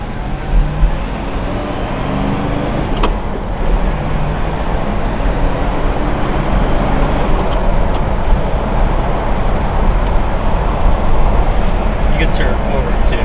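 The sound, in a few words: 1968 Ford Galaxie 500 car driving on road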